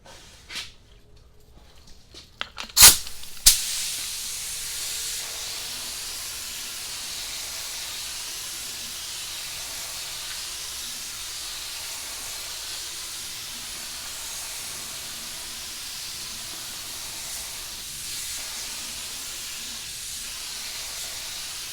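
A spray gun laying clear coat over a custom candy blue and gold painted piece, with a few sharp clicks at the start followed by a long, steady, loud hiss that continues unbroken to the end.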